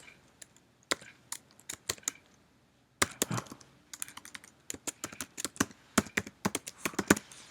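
Keys clatter on a computer keyboard in quick, uneven bursts of close, crisp clicks, with a short pause before the typing picks up again at a faster pace.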